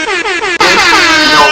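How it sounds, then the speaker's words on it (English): Loud air horn blast, a brief stuttering honk that breaks into a sustained bright, harmonic-rich blare, played alone as a sound effect in a live stream. "I gotta give them like a little air horn"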